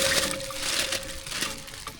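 Water pours steadily into a pot holding washed potatoes, a continuous close splashing trickle lasting a couple of seconds with no talk over it.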